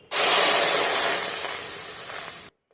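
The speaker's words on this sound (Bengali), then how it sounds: "তিল ভেজে নেওয়ার পর আমি ওই কড়াইতে দিয়ে দিচ্ছি 1 বাটি দুধ" Milk poured into a hot wok just used for frying sesame seeds, a loud, sudden sizzling hiss that bursts in and then fades gradually over about two seconds before cutting off.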